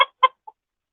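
Cinnamon-colored backyard chickens cluck in three short, close bursts, the first two fuller and the last a faint single note, with quiet pauses between.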